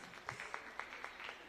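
Congregation applause in a church sanctuary at Greater Refuge Temple in Buffalo, heard as faint, sparse claps spaced out over a quiet background, a few hands striking at a time.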